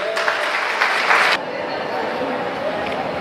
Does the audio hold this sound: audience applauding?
yes